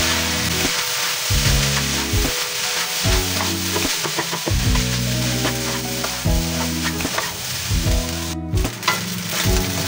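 Food seasoned with salt and pepper being stirred in a frying pan, a steady loud sizzle with scraping strokes of a utensil throughout, no voices.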